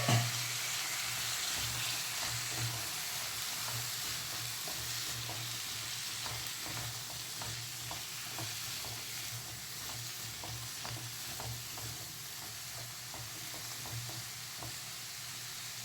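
Potatoes and ivy gourd (tindora) fry in a pan with a steady, close sizzle and faint scraping stirs throughout, with no talking.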